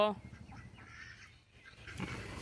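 Ducks honk and quack in a noisy, scattered flock nearby as they are herded, with brief shouting voices mixed in.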